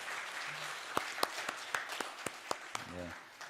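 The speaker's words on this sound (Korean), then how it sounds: "우리 호산나 성가대를 위해서 다시 한 번 더 축복의 박수 부탁드리겠습니다." A church congregation gives a round of applause for the Hosanna choir at a Wednesday service. Scattered, fairly sparse claps crackle steadily across a few seconds at moderate distance, with a brief murmur of voices near the end.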